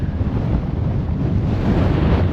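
Strong wind roars across the open Patagonian desert, buffeting the microphone with loud continuous low rumbling and no voices.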